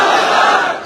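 An outdoor AIMIM rally crowd in Bahadurganj, Seemanchal, roars its answer to the Takbir slogan, a single loud massed shout that swells and then fades.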